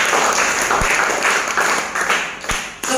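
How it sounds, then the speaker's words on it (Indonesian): An audience at a business presentation applauds with steady dense clapping that swells slightly in waves, loud and continuous, and a few sharp claps stand out near the microphone. "Tepuk tangan buat PT bisa."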